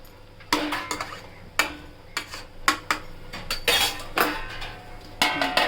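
A lid goes onto a pan of frying fish roe, giving a series of sharp metallic clinks and taps, close and fairly loud, spaced irregularly over a few seconds.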